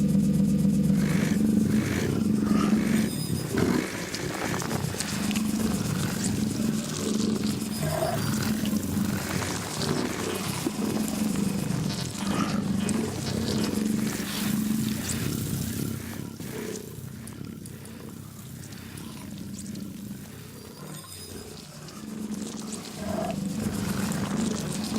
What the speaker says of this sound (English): we just made like some crazy cyber leopard that is eating